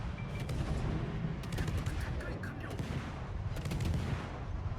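Warship guns firing shells in World of Warships, a dense run of rumbling booms and rapid shot bursts layered over a constant low roar, loud and continuous.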